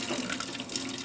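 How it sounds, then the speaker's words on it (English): Tap water runs steadily into a sink as something is rinsed under it for breakfast prep in a home kitchen, a continuous close splashing hiss with no voices. "And I just give this a rinse like this."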